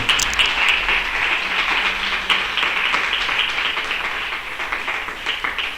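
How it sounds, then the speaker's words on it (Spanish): A church congregation gives the Lord a strong round of applause, a loud sustained wash of many hands clapping that slowly tapers toward the end. "Denle un fuerte aplauso al Señor."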